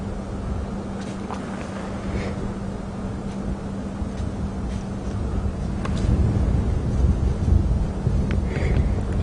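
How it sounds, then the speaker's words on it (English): Gusty wind rushes through trees above an open safari vehicle at Djuma Game Reserve, a steady roaring blow that swells louder toward the end, with no voices. "it is blowing in the trees above us"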